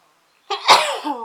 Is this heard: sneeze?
yes